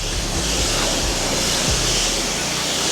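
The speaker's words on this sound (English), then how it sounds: "right now we got the pressure washer turned on" A pressure washer sprays water onto a car, a dense, continuous hiss and rush of spray close to the microphone with no pauses.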